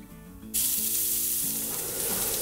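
Cumin seeds hit hot oil with a sudden, loud burst of sizzle after a brief low hum, then crackle steadily and close for the remaining seconds.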